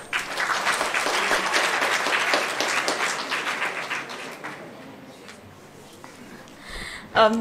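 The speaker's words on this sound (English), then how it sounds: "Give her a great applause." Audience applause at an international workshop on nanoparticle health risk, a full burst of clapping that gradually thins and fades, followed by a brief close noise at the very end.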